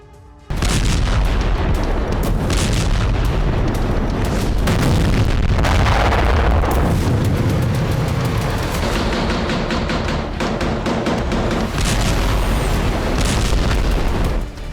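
Heavy shelling and repeated explosions in war-torn Gaza, loud booming blasts rolling one after another almost continuously, with deep rumbling and crackling debris, no voices.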